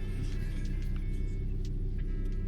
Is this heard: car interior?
yes